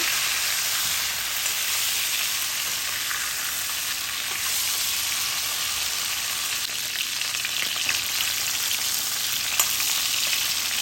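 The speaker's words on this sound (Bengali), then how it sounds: "এবার একটু দিয়ে পাল্টিয়ে হালকাভাবে ভেজে নেব" Cauliflower pieces dusted with turmeric frying in a pan, giving a steady close sizzle and crackle that runs without a break, with faint stirring touches and no voices.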